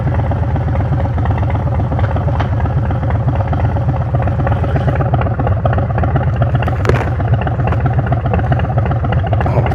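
A 2026 Harley-Davidson Custom Street Bob 117 motorcycle engine rumbles steadily up close, a loud, continuous low-pitched thrum with fast pulsing beats and no talking.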